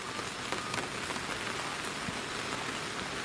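Steady rain in England hisses close by with scattered drops ticking on a surface, constant and fairly loud throughout, with no voices.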